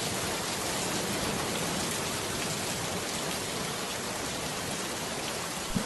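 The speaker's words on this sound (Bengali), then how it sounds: "কি রে এই অসময়ে বৃষ্টি শুরু হলো যে" Steady, dense rainfall hisses evenly throughout, a constant wash of drops on surfaces with no voices and no breaks.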